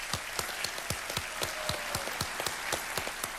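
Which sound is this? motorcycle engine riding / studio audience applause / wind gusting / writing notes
studio audience applause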